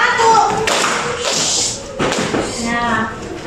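A school class claps once together on the teacher's command, a brief burst of hand claps in a classroom, with the teacher speaking around it.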